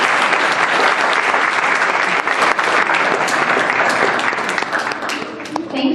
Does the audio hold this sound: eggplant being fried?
no